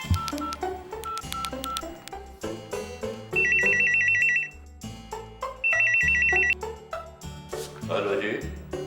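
A phone call home: rapid dialing tones and beeps give way to two bursts of a loud electronic telephone ring, each about a second long, with a clear pause between them and other tones around them.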